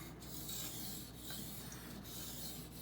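A Benchmade Bugout 20CV knife is rubbed along a Norton 4000 grit water stone, making a faint, steady wet rasping close by with a few soft strokes and no voices.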